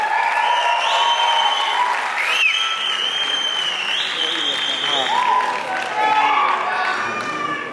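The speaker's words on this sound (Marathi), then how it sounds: "जोरदार टाळ्या शिट्ट्या झाल्या पाहिजे" A packed crowd at the Dharmaveer 2 trailer launch claps and cheers continuously, with loud whistles and shouts rising over the dense applause, while an amplified voice calls out over the crowd.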